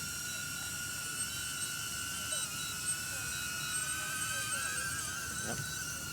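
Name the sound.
DJI Avata FPV drone flying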